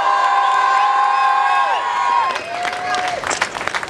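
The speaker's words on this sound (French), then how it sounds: "vos applaudissements mesdames et messieurs" At the Enduropale du Touquet beach race podium ceremony, an outdoor crowd claps and cheers, building into louder scattered clapping and whoops while drawn-out shouting voices and loudspeaker talk carry through the first part.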